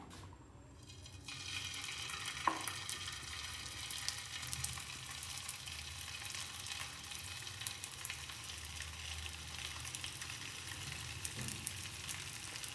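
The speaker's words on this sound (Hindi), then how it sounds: "ये देखें जब ये घी गर्म हो जाएगा, अब हमने इसके अंदर कबाब डालने हैं।" Chicken golla kebabs shallow frying in a pan of hot ghee, a steady close sizzle and crackle that rises after a quiet start and carries on evenly, with a couple of faint knocks and no talking.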